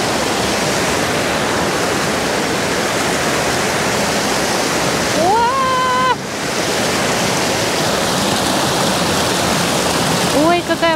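The Todtnau waterfall in southern Germany roars as a steady, loud, broadband rush of falling water that holds throughout. A brief voice cuts in twice above the roar.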